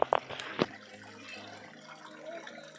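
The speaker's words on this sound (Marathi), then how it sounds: "इथं थोडं प्रमाणात पानझराचं पाणी येतं आहे आणि एकदम पायऱ्यावरून येतं हे पाणी खालीपर्यंत जात हळूहळू" Thin seep water trickling slowly down stone steps at Raigad Fort, with a few sharp drips and splashes at the start, then a faint continuous trickle under outdoor ambience.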